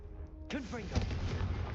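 A Confringo fire spell cast in the video game Hogwarts Legacy, a sudden whooshing blast with a falling swoosh and a low rumbling tail, heard close and alone.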